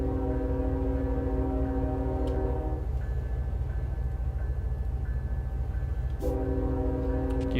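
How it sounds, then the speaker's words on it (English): George Bush train horn in the Run 8 train simulator video game: a loud, sustained multi-tone horn blast sounds over a constant low locomotive rumble, stops, and then resumes after a few seconds. "I know it's the George Bush horn because I actually labeled it as such"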